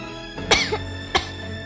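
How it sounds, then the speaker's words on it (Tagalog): Two short, sharp coughs about half a second apart, close and clear over a steady low background hum. "palagyan na lang po ng sound yung ubo. Ubong pabulong nga eh."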